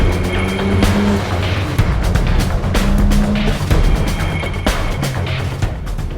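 A real car driving laps on a race circuit, its engine droning steadily and close throughout with shifting pitch, plus a few brief tire and mechanical accents.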